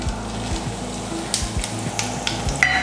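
Whole cinnamon and cardamom sizzle in hot sesame oil for a Madurai mutton kari dosai, a steady close frying hiss with a few brief crackles and spits, with no voices.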